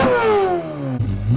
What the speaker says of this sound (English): Next, we have the Ferrari 458 with its high-revving, naturally aspirated V8.